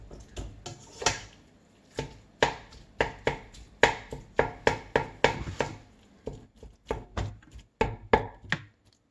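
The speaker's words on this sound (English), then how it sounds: "Give it a real good chop and keep chopping as I stir." Knife chopping taco soup ingredients on a cutting board, a long run of sharp, close, fairly regular strikes with brief pauses between bursts.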